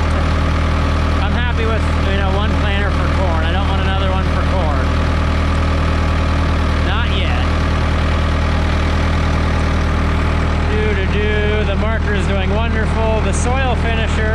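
A Ford 6610 tractor engine runs steadily and loudly while planting the last field of corn, a continuous close drone throughout, with a voice talking over it at times.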